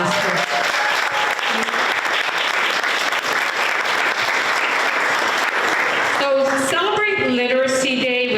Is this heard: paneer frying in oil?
no